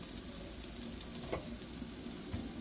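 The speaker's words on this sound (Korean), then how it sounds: "이렇게 볶아주세요." Carrots stir-fry in a pan over medium-low heat, giving a faint, even sizzle with a few light stirring scrapes, heard alone.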